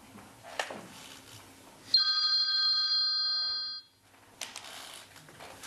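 A telephone bell rings once in a sustained, bright electric trill lasting about two seconds, loud and clear between stretches of quiet room noise with a few soft knocks.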